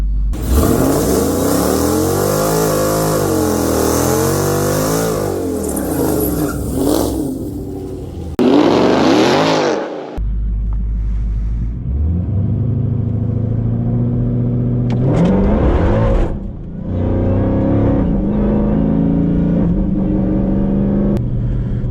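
A Dodge Hellcat roars close and loud during drag runs, sweeping up through the revs in repeated surges, with abrupt shifts, a sharp high burst midway and a deep rumbling idle between pulls.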